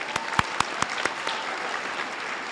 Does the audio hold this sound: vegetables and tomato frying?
no